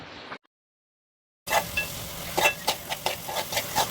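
Chopped tomatoes and spices sautéing in oil for a dried green peas curry, a soft sizzle with repeated scraping stirs after a short silence, close and clear.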